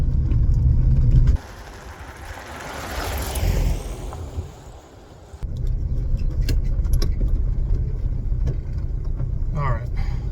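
An old Volkswagen car driving with a steady low engine rumble and road noise, briefly dropping quieter midway before resuming, with a faint jingle of keys and some talking.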